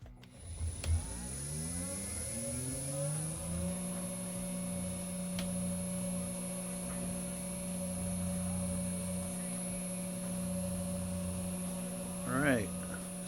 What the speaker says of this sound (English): So here goes the 3 horsepower motor.